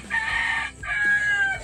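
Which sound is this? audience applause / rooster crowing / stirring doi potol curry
rooster crowing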